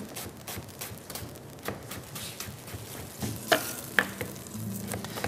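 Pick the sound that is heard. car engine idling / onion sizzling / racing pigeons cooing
onion sizzling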